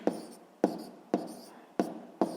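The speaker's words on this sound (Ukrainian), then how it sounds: "Записуємо відповідь." A pen writes down an answer on paper, making five evenly spaced scratchy strokes close up and fairly quiet.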